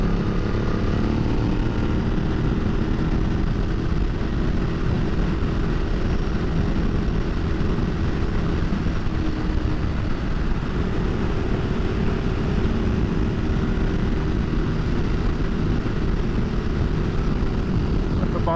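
A 2010 Ducati Multistrada 1200S in sport mode, carrying luggage, rides along a road with a steady, droning engine note and constant wind rush, heard close and continuous throughout.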